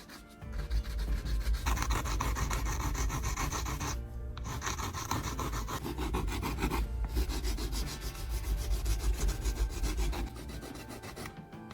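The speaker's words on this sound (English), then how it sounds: "Take a fine file and begin shaping the hardened graphite surface carefully." A fine hand file rasps steadily over a hardened graphite repair on a broken eyeglasses bridge, giving continuous close scraping strokes with two brief pauses.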